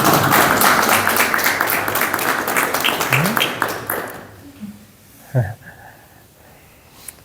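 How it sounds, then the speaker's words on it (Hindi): An audience applauds loudly with dense clapping during a spoken conversation session, fading out after about four seconds into quiet with a few isolated sounds. "तालियां बजाओ"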